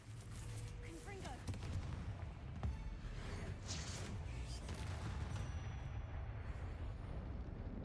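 Confringo fire spell blasts in Hogwarts Legacy land as quiet, rumbling booms and crackling bursts over continuous game ambience, with a brief sharper hit near the middle.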